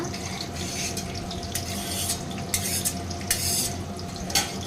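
Onions frying in a pot for chicken biryani as they are stirred, a steady sizzle with scraping clinks of the spoon against the metal, a few sharper knocks standing out, close and moderately loud with no talking.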